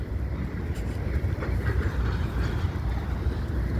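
A CSX freight train rolls across the Delair Bridge, a loud, continuous rumble with steady wheel clatter and no gaps.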